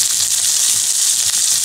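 Mint, ginger and onion sautéing in a pan with cumin, cinnamon and cloves, giving a steady, dense sizzle that stays close and even throughout with no talk.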